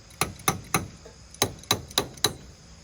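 Sharp metallic hammer strikes on an old, rusty Ford Mustang, close, in two quick bursts of three and four evenly spaced blows separated by a short pause.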